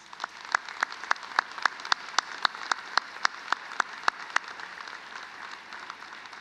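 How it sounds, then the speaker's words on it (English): Applause at a university presidential inauguration ceremony honoring community colleges: sharp, fairly regular claps over a soft bed of wider clapping, steady at first and then fading toward the end. "If we could give them a round of applause, please."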